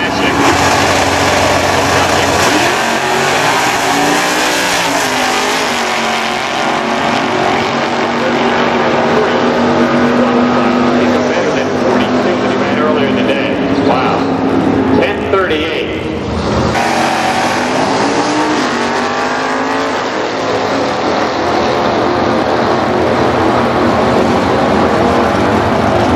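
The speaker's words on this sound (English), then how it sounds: "Here comes that Chevrolet Corvette." Chevrolet Corvette in C stock automatic class drag racing, a loud sustained engine roar building through a long run, with a commentator talking over it throughout.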